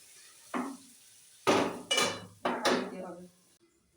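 A spatula scrapes and clanks against a pan while spices such as ground coriander, cumin and salt are stirred and sautéed. Several sharp metallic strokes come in an uneven rhythm, close and fairly loud, with only faint frying underneath.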